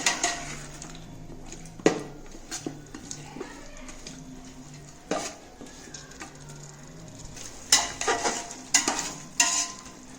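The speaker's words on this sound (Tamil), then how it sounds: "தயிர் போட்டு நல்லா வதக்கிட்டுருக்கோம்" Mutton dum biryani masala with curd is sautéed in a pot, a soft low sizzle under repeated clanks and scrapes of a ladle against the metal, some sharp and loud, in an irregular rhythm.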